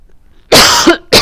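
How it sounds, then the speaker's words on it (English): A single harsh human cough very close to the microphone, then the start of a second cough after a brief pause. "Because I am coughing right into the microphone."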